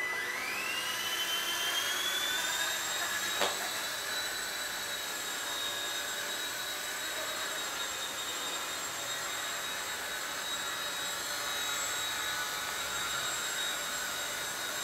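A T-REX 100X A5 RC helicopter powering up, its motor rising into a high, steady whine with a sharp tick partway through, then holding a constant pitch over faint background hiss, with no talking.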